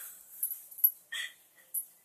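A dog whimpers and whines in short, high-pitched bursts, a few soft cries spaced apart with quiet gaps between, fairly close by and with no talking.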